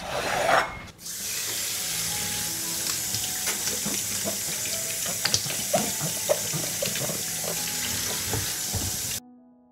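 Fresh peppers washed under a running kitchen tap: steady close water flow with splashing and rubbing of the vegetables, lasting about eight seconds before it stops.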